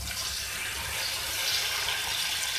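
Water pours steadily from a cup into a chicken karahi pan, a continuous close hissing splash lasting the whole moment with no voices.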